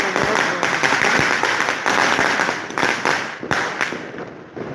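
Street-level New Year firecrackers and fireworks go off in a loud, dense barrage, sharp bangs and crackles overlapping continuously, with the crowd's voices mixed in beneath.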